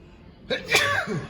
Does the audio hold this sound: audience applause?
no